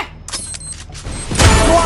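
Grenade being readied and thrown in the mobile shooter Free Fire: a few short mechanical clicks and creaks, then a louder burst of noisy whooshing game sound near the end, with no talk.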